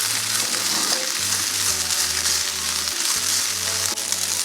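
Coconut beans and boiled rice being stirred in a hot pot, a continuous soft sizzle with a low steady hum underneath and no voices.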